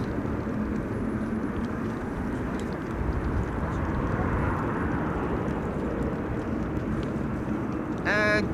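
A Cathay Pacific A350-1000 airliner departs Schiphol's runway 24 in windy conditions, a distant steady engine rumble mixed with wind noise, and a brief electronic chirp at the end.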